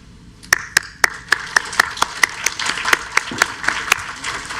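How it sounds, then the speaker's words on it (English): A crowd applauds at a graduation ceremony, with sharp, evenly spaced claps standing out above a dense wash of clapping that builds and carries on throughout. "join me in a round of applause"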